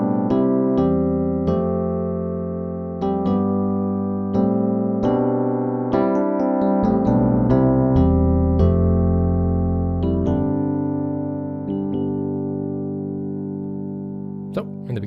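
Piano plays the altered outro riff of a song, with a repeated melodic figure over sustained low left-hand chords that ring out and fade toward the end.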